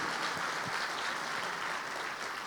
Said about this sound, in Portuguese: Dê um aplauso a Ele